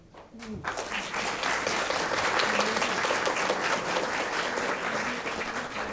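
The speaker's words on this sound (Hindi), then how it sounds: "जोरदार तालियां।" Sustained applause from an audience at a public dialogue event, loud and steady for several seconds after a brief quiet start, with no talking over it.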